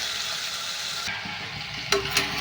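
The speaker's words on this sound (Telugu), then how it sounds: "ఈ బంగాళదుంపలు అయితే మళ్ళీ ఈ ఆయిల్లో ఫ్రై చేసుకోవాలండి" Potatoes with turmeric fry in hot oil, a close, steady sizzle with a couple of brief louder stirring bumps near the end.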